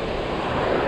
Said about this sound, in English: there's all these waves crashing and stuff